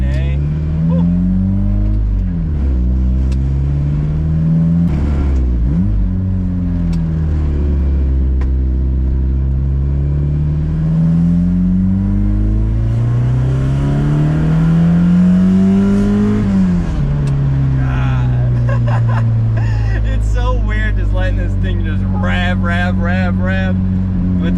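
A Mazda Miata NA with a 170-horsepower engine revs repeatedly, its pitch rising and falling in strong sweeps close by, loud and continuous, ending with a burst of higher-pitched sound.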